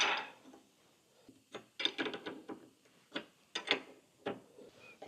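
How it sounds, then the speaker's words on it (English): Ratchet wrench tightening nuts on a bearing separator clamped on a Scout 800 gearbox shaft, giving bursts of quick clicking pawl strokes with short pauses between, close and moderately loud, no talk. "Just put that on there like that. Tighten these nuts up."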